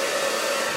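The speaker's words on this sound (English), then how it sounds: "I'm gonna take my blow dryer" A handheld blow dryer runs steadily at close range, giving a constant loud whooshing drone with a faint motor whine and no pauses or speech.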